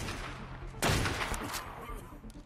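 Gunfire bursts at a wyvern in the ARK survival game, a dense volley breaking out about a second in and continuing loud and close over a low rumbling background.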